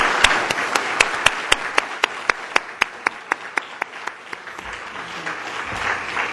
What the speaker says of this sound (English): let's give another great big round of applause for our career panel